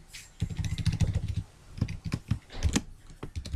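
Rapid keystrokes on a computer keyboard come in quick bursts with short pauses between them, close and fairly clear, with no talking.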